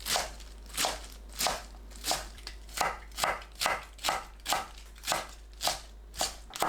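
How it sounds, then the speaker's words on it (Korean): A knife chops through washed spring cabbage (bomdong) on a cutting board in a steady, even rhythm of about fifteen crisp, close thuds over several seconds, with no voices. "씻은 봄동을 썰어주세요."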